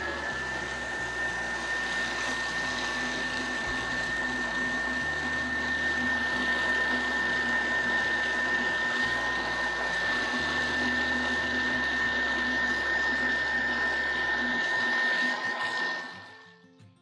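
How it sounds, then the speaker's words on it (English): A Thermomix runs steadily at speed 5 while eggs are added to choux pastry dough, giving a continuous whirring motor drone with a faint high whine, then winding down and stopping at the end. "we're going to turn our speed to speed 5 so we can add our eggs in one at a time"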